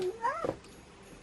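A cat gives one short, clear meow with a rising and falling pitch close to the microphone indoors, followed by quiet.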